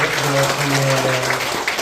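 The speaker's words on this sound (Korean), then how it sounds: "우리 한번 격려의 박수 한번 드리겠습니다" A church congregation at a Sunday morning service applauds new course graduates in encouragement, a soft spread of clapping running beneath a voice that keeps talking over it.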